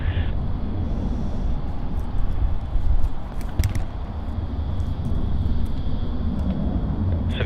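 A Qantas heavy airliner takes off at Sydney Airport, heard as a broad, rumbling roar that holds steady and swells briefly midway. It comes from a distance and has no clear voices over it.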